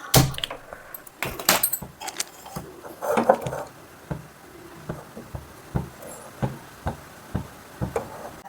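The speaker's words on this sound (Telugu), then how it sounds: "ఈరోజు కుక్కర్ పెట్టాను, స్టవ్ ఆన్ చేస్తున్నాను." A gas stove being switched on beneath a pressure cooker for mutton keema palak curry, with a jangle and knocks at first, then a steady run of sharp, evenly spaced clicks, close and moderately loud.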